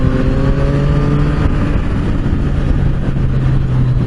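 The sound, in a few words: Yamaha MT-09 motorcycle engine accelerating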